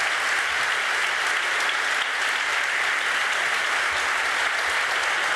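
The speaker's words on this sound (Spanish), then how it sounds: "Pues muchas gracias, de verdad, a los cuatro. Un aplauso." Steady applause from an audience at a tribute event in an arts hall, dense and sustained clapping filling the whole stretch without pause.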